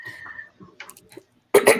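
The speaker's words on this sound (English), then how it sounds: "I'm just clearing my throat." A person clears their throat, a short rough burst at the end following faint scattered vocal sounds and near silence, close by.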